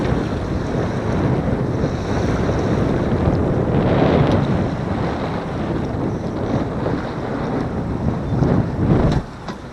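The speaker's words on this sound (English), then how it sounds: "Powerboat coming up here on our port." On a sailboat under heavy wind, a powerboat passes on the port side, its engine hum blended into loud steady wind buffeting and the wash of water, with a swell in the middle and no talking.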